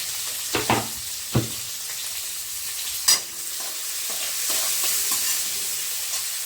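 Onions sauté in a pan with a continuous sizzle, broken by a few sharp scraping stirs of a spatula near the start and middle.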